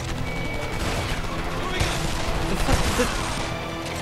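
Rapid ACR rifle gunfire with impacts in the shooter game Homefront, bursts of shots and crashes running throughout, with a voice talking over the action.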